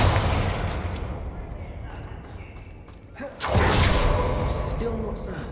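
A booming spell explosion in the Hogwarts Legacy video game, a sustained roaring rumble that swells again partway through, loud and dense with whooshing debris over the game's background.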